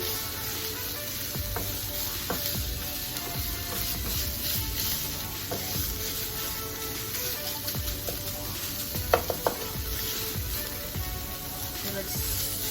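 Chorizo sizzling in its own grease in a pan, a dense, loud, constant crackle with occasional scrape and stir clicks, heard close with no talking.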